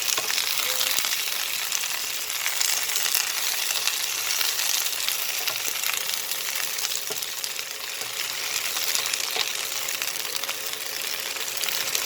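Okra fries in mustard oil with a steady, moderately loud sizzle and crackle that runs unbroken for the whole stretch. Occasional faint clinks sound from the pan, and no one speaks.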